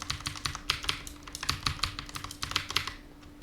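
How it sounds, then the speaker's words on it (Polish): Rapid, steady tapping of keys on a computer keyboard, close and fairly quiet, with irregular clicks continuing throughout. "bardzo słychać klawiaturę przy tym"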